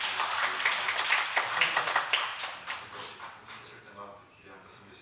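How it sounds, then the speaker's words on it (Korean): Dense, bright clapping rises from a congregation giving thanks, loud and steady at first, then thinning and tapering toward the end, with speech beneath it. "감사의 박수를 한번 쳐주세요."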